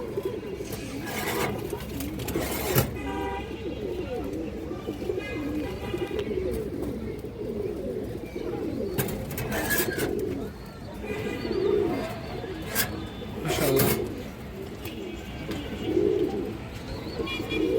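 Silver Bagha pigeons coo repeatedly in soft, rolling bursts against a steady background murmur of more cooing and faint chirps, with brief louder rustles.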